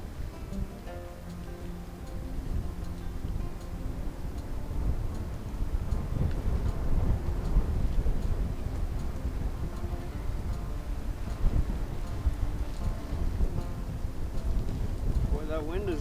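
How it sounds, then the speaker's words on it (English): Strong winter wind during camping in Algonquin Park, Canada, at -25C: continuous loud gusting roar and buffeting against the microphone, swelling and easing throughout with a voice speaking briefly. "Boy, that wind is really picking up."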